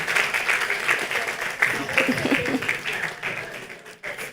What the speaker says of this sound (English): Keep clapping for them, I beg you.